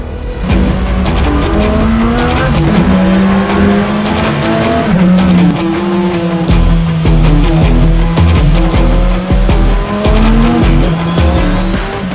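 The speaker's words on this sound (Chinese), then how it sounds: "涡轮的加持下，9000转可以爆发出1000匹的马力， 并且这台308 GTB 的重量还不足1吨" A turbocharged Ferrari 308 GTB race car weighing under a tonne and making 1000 hp screams loudly past on a WTAC 2023 track, its engine note rising and falling with tire squeal and skidding as it corners hard, with no talk.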